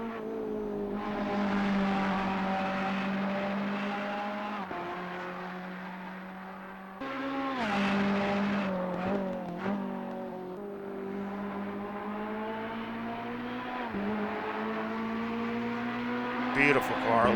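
A Ferrari GT race car in Assetto Corsa Competizione laps Laguna Seca, its engine a loud, steady high-revving drone that dips sharply on downshifts and braking before climbing again, with someone talking over it.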